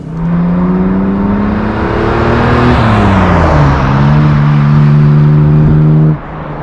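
A restored 1958 Jaguar XK150 3.4 OTS engine runs loud and steady right up close, its tone sagging and recovering mid-way before the level drops off near the end.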